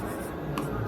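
Pen scratching across paper while working a 12th-grade maths example, a short steady rub close by with no talk over it.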